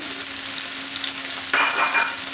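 Ginger fries in a pan for a liver fry, a steady close hiss of hot oil that swells into a brighter, louder sizzle partway through.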